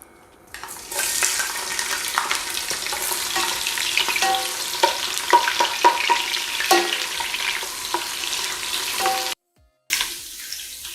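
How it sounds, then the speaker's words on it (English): Onions hit hot palm oil in a pot with a sudden loud sizzle that holds as a steady crackling hiss with light stirring clicks, then briefly cuts out near the end before resuming. "And in the palm oil, I'm going to add some onions."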